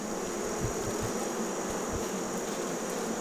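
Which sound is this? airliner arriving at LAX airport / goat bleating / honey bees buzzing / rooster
honey bees buzzing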